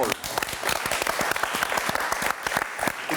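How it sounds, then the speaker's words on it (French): A studio audience on a football talk show claps, the individual hand claps sharp and distinct in a moderately sized group, keeping up a lively, steady rhythm. "On peut l'applaudir."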